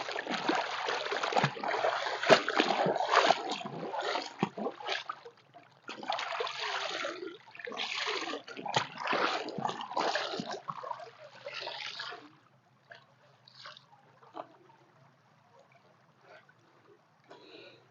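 Clothes are hand-washed in a stream, with bursts of splashing and sloshing water for about twelve seconds before things settle to faint trickles and drips, close by and without speech.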